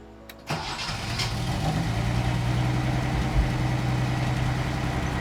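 A 48-year-old Datsun 240Z catches and starts on its own without starting fluid, a brief crank then a steady, loud, close idle that holds evenly with a low rumble.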